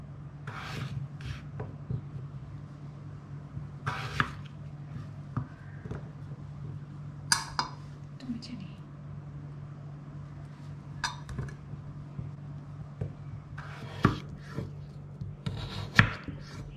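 Potatoes, unpeeled and only washed, are chopped into small pieces with a knife on a cutting board in a home kitchen, giving soft scattered chops and scraping taps over a steady low hum, with no talking.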